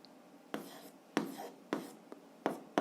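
An algebra equation is written by hand, presumably on a board, making about six sharp scratching strokes in a quick irregular rhythm, close and fairly quiet, with no talk.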